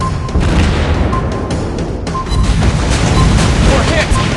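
A torpedo strike in the naval battle game World of Warships Blitz lands as a loud, continuous rumbling blast with crashing debris, mixed with voiced game alerts.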